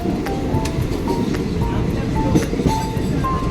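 Continuous low rumble of a moving long-distance train on the route to Goa, with faint rhythmic clatter and brief tonal squeals over the steady roar.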